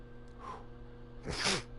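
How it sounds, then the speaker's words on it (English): A single sneeze from a man recording a gaming session at home, a faint sharp intake of breath first, then a loud burst, over a steady low electrical hum. "Oh, just about to sneeze"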